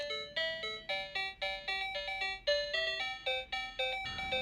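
A toy tape recorder switches on and plays a bright, beeping chime melody, a quick string of clear synthetic tones repeating steadily at close range.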